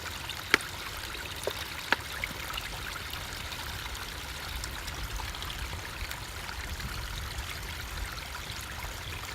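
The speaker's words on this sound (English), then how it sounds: "and fill up my squeeze bag." Clean water trickling and pouring steadily into a squeeze bag from a natural source outdoors, a soft continuous flow with a few faint clicks and no talking.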